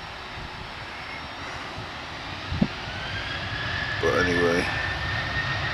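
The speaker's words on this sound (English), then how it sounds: "off goes Ryanair to wherever it's going to" Ryanair jet taking off at Manchester Airport, a loud steady engine roar filling the scene with a brief voice over it.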